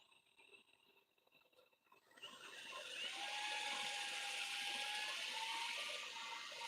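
Coarse 80-grit sandpaper scraping paint off a spinning wood-turned lampshade on a lathe, starting after a quiet moment and then holding a loud, steady hissing rasp close by.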